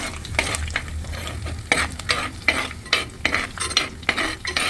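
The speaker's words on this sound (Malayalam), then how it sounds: "ഇതൊന്ന് വഴറ്റി കൊടുക്കാം." Small onions are sautéed in a pan, with a soft sizzle beneath repeated scraping and clinking strokes of a stirring utensil, close and continuous.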